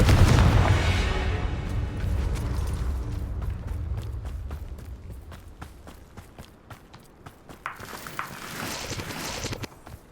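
Confringo blasting-spell explosions in the video game Hogwarts Legacy: a loud opening blast with a rumbling low-end tail, then a run of sharp, rapid impact bursts and crackling hits, with a second cluster of blasts near the end.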